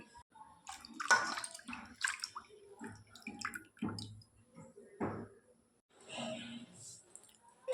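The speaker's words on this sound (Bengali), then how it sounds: "সবজিগুলোকে ধুয়ে নিব এখন" Carrots, squash, potatoes, raw banana, eggplant and cauliflower stems being washed in water, with intermittent splashing and sloshing bursts close by, separated by short quieter gaps.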